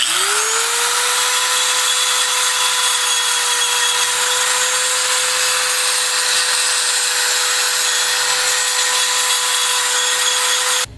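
A power tool whines steadily and loudly after a quick spin-up, grinding weld off a worn non-greasable ball joint on a Mazda MPV control arm, holding one constant pitch for about ten seconds before cutting off.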